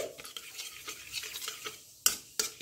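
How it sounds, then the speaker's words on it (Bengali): Nigella seeds crackle in hot mustard oil as a tempering for a hilsa fish curry, a low steady sizzle with light spoon stirring, then two sharp metallic clinks near the end. "এখানে আমি 1/4 টিস্পুন কালো জিরে নিয়েছি, ফোড়ন হিসেবে দিয়ে দিচ্ছি।"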